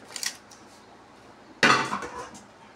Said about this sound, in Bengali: দেখো আমি এই পাতুরি নামিয়ে দিচ্ছি